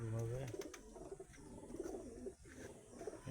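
Male pigeons resting in a loft coo softly in low, rolling phrases, with several birds overlapping at a moderate distance and light background noise.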